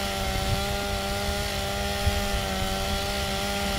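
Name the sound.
chainsaw sounds in the video game Gears of War 2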